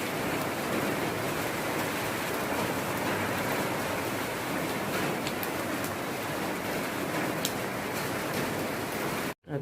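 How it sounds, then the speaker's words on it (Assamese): Heavy rain pours down steadily on a grey, cold morning, a dense unbroken hiss that stays loud and even before cutting off abruptly at the very end. "পুৰা বৰষুণ দি আছে।"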